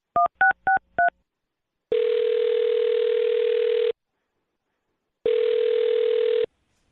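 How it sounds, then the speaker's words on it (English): Four quick touch-tone beeps dial a number, then two long steady ringback tones follow with a pause between, clean and close over otherwise silent line. "I'll dial her phone number right now and see if we can get her on the phone"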